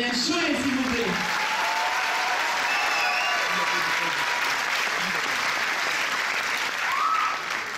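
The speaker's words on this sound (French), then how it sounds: "Attendez un applaudissement pour Magdalene Cholet, s'il vous plaît" Sustained applause from an audience at the Miss Poitou-Charentes 2017 beauty pageant election, steady and full throughout with a brief crowd swell near the end.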